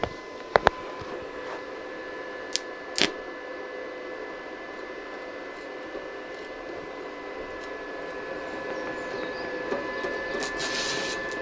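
A cheap arc welder runs with a steady electrical hum and faint hiss throughout, broken by a few sharp clicks near the start and a brief crackle around the middle, close by and without speech.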